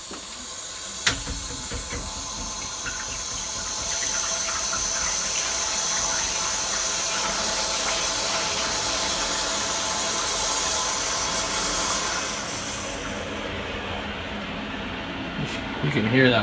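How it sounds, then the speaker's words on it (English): Water refilling a gas hot water heater tank after draining, heard as a continuous rushing hiss and gurgle inside the pipes and tank, loud and steady before tapering off near the end. "You can hear that water filling up."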